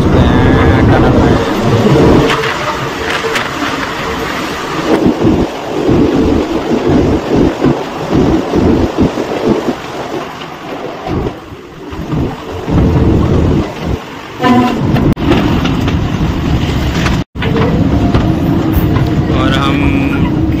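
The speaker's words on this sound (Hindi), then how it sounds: "हमारी ट्रेन टनल में एंटर करते हुए, यहाँ से हम पंजाब पहुंच जाएंगे।" Train on the Bhakra railway entering and running through a tunnel, a loud continuous rumbling roar with rattling and gusty bursts throughout, recorded close from on board.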